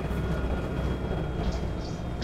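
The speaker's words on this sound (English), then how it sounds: "Good to know that the train can't run you over." A train rumbles past in the video game Apex Legends, a steady, loud low roar that holds throughout with no gaps.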